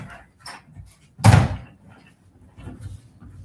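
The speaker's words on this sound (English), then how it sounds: "I'm going to close the door" A door pushed shut indoors, a single solid thud in the middle, with faint shuffling and a quiet voice before and after.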